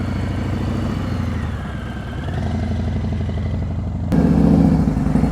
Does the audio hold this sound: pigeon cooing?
no